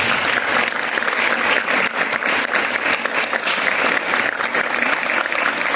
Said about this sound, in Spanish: Yo le voy a pedir un aplauso para Saúl Folia,